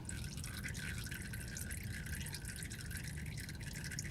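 Manual transmission fluid drains from a 1998 Ford Ranger 4x4 as a faint, steady trickle and drip of liquid. It runs unbroken throughout with no talking.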